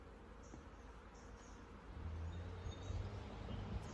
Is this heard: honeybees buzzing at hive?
yes